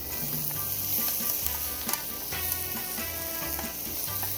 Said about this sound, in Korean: 자 이렇게 제가 불을 안 줄이고 계속 볶잖아요.